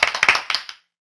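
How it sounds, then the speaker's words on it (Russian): Congratulatory applause at a televised anniversary celebration, a burst of several quick, close clapping hits over under a second that then stops dead, leaving silence. "Продолжаем наши поздравительные аплодисменты для Гродненской области сейчас"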